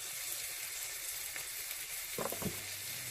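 Curry leaves and green chilies fry in hot oil for a chickpea and red kidney bean curry, a steady close sizzling hiss with a few sharper crackles and spits near the end.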